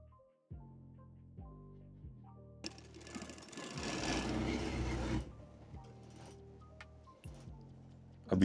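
A sewing machine stitches a trouser seam nearby, first in several short rhythmic bursts of ticking needle strokes, then one longer continuous run, then more brief stitch bursts.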